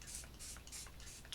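A handheld spray bottle mists water in a quick series of soft, close hissing puffs, about five short bursts in rapid succession with no talk.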